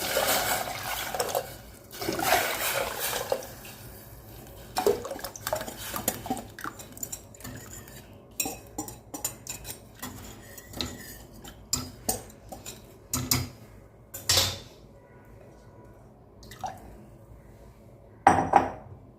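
A paddle stirs murukku vathal flour batter in a pot, making irregular metallic knocks, clinks and scrapes, some sharp and close, over a quiet bubbling background.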